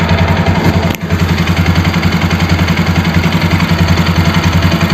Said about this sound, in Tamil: ஐட்லிங் இன்ஜின் நாய்ஸ்லாம் அருமையாக இருக்குது